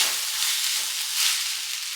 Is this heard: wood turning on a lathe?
no